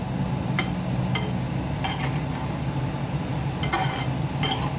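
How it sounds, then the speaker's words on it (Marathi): Pharasbi (French bean) bhaji being stirred in a pan with a spoon, a steady soft sizzle underneath and a few sharp metallic scrapes and clinks of the utensil against the pan at intervals. "आता थोडंसं हलवून घेऊन मग मी झाकण झाकतो."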